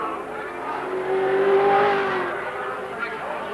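Touring cars of the 1983 Australian Touring Car Championship round at Symmons Plains, with Allan Grice and Allan Moffat racing, roar past as engine noise swells, peaks and fades over a few seconds, with a commentator's voice over it.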